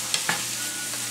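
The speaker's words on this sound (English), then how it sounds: "I'm going to go ahead and saute that a little bit." Onions sauté in a pan with a gentle continuous sizzle and a couple of quick utensil scrapes near the start, close and fairly quiet.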